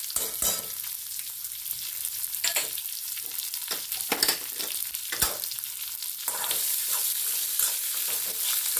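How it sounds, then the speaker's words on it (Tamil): Small onions, garlic and chopped large onion sautéing in a pan for a Chettinad tomato curry, a close, continuous sizzle broken by scraping stirs of a spoon, with the frying growing slightly louder toward the end. "இது எல்லாத்தையும் போட்டு நல்லா வதக்கணும்."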